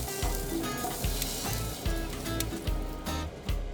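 Steaks sizzling on a hot Weber SmokeFire barbecue grill at 300 degrees, a steady close crackling hiss with soft pats and thuds as the meat is pressed down onto the grates.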